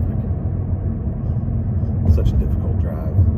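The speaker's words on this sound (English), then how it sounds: "Still don't know how they survive all this traffic." Road traffic rumbles past a vehicle on a morning school run with bike lanes, a steady low engine and tyre drone with a slightly louder passing swell near the end.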